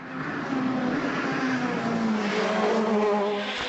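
A Ford Fiesta S2000 rally car, run by M-Sport on a stage of the Donegal International Rally, drives hard with a loud, sustained engine note that rises and falls as it shifts through gears, heard close and steady.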